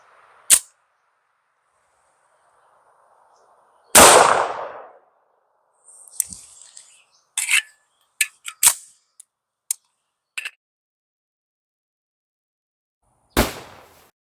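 10mm pistol shots from an MC1911 Carry with a 4.5-inch barrel fired into water jugs outdoors, several sharp loud reports spaced irregularly with clanging and splashing impacts between them.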